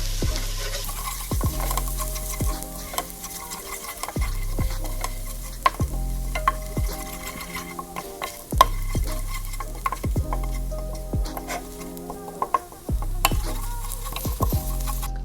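Garlic sizzling in a hot pan while being stirred for a Thanksgiving mac and cheese, a continuous loud fry with repeated scraping and clunks of the spoon against the pan, and no voices.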